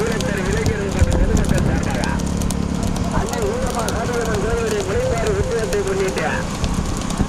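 Hooves clatter from a horse cart race with twelve horses in Keezhavaniyankudi, Sivaganga district, a steady galloping under loud, continuous commentary and crowd talk.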